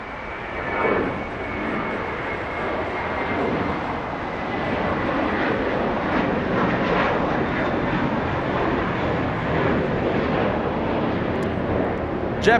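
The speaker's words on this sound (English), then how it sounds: "JetBlue 524 flying to New York City. That's an A321." A JetBlue Airbus A321 (not a neo) bound for New York throws a loud, sustained jet-engine roar across the field at Los Angeles International Airport, a steady rumble holding for the whole stretch without speech.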